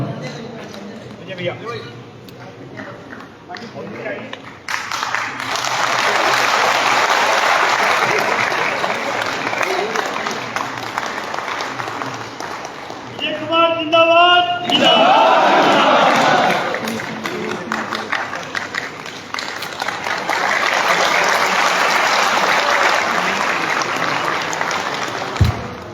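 Audience applause rings out at the annual convention of a Uttar Pradesh tent, caterer and decorators association, two long stretches of loud sustained clapping from a crowd, mixed with chanted slogans and voices.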